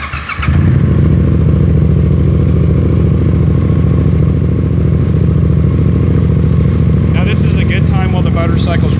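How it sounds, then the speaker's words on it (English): A motorcycle engine idles steadily right after an oil change, a loud close thrumming with a dense low rumble, and a voice speaks briefly near the end. "Motorcycle's running"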